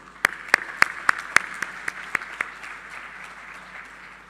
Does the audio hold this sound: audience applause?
yes